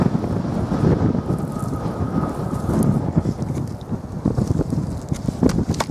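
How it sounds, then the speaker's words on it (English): Wind blows across an open field during metal detecting in Norfolk, buffeting the microphone with loud, uneven low rumbles and gusts that surge and ease throughout. "Oh, that wind is getting up."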